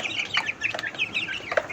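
Chickens in a coop cluck in quick, overlapping calls that rise and fall, close and fairly loud, with no voices.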